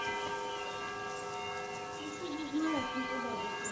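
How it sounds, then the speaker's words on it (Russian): Village church bells ring out at a distance, steady tolling tones layered over outdoor background noise, with a brief louder rising tone near the end. "Слышите, друзья, как колокола стучат."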